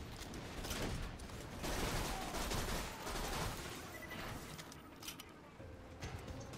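Gunfire in Borderlands 2 during a Mad Mic round, with dense bursts of rapid automatic shots hammering on and off over several seconds, loud and close, with a few sharper isolated reports near the end.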